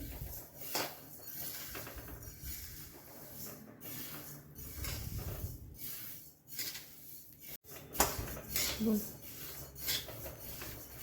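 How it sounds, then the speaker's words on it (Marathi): Coriander seeds dry-roasting in a pan while being stirred make a soft, continuous rustling scrape with intermittent dry rattles, fairly quiet and close. "धणे आपल्याला खूप काळे भाजायचे नाही हलकासा रंग बदलले इतकेच भाजायचे आहे"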